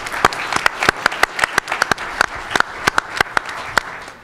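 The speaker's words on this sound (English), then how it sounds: "One more round of applause for our panelists." An audience applauding at a panel discussion, with a steady patter of claps and a few sharper individual claps standing out, lasting a few seconds.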